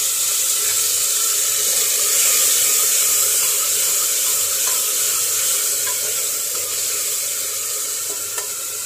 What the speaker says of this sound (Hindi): और मैं इसमें टमाटर डालूंगी।